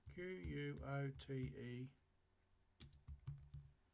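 Computer keyboard keys are typed in short bursts of clicks, heard after a stretch of someone talking and mixed with more voice near the end.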